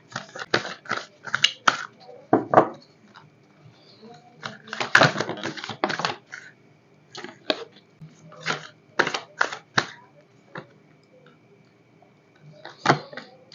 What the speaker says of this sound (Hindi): तो मैं पहले सारे कार्ड्स निकाल लूँगी